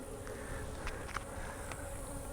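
Honeybees buzz in a low, steady drone around an open nucleus hive outdoors, faint and continuous, with a few soft taps and handling noises from the beekeeper working the frames.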